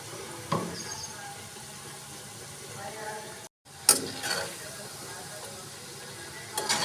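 Peanut pakoras frying in hot oil in a wok, a soft steady sizzle broken by a brief pause, with a few clinks of a ladle stirring, close up and quiet.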